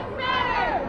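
Large crowd of demonstrators at a protest march in downtown Detroit, a dense wash of many voices shouting and chattering together, close and steady throughout the short moment.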